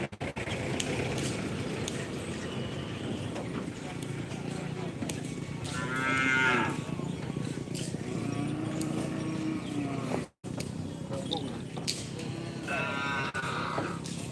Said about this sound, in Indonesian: dan banyak sapi-sapi besar guys.